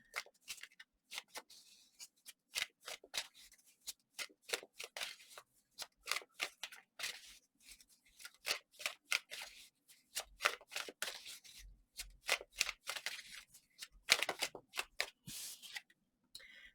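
Tarot cards are shuffled by hand, with repeated quick riffling and slapping bursts in an uneven rhythm, close and fairly quiet, with no talking.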